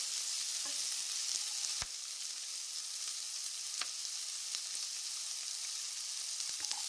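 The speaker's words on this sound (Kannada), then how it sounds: "ಈರುಳ್ಳಿ ಸಾಫ್ಟ್ ಆಗೋ ತನಕ ಇದನ್ನು ಎಣ್ಣೆಯಲ್ಲೇ ಹುರ್ಕೋಬೇಕು." Onions sizzle and fry in oil for tomato chutney, a steady soft hiss with scattered light crackles and a few sharp pops, fairly quiet and uninterrupted by talk.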